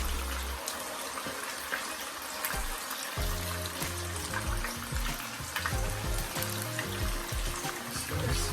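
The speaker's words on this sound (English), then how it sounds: "your second batch of your plantain are frying" Steady crackling and sizzling of plantains frying in hot oil, with scattered pops and faint clinks of utensils throughout.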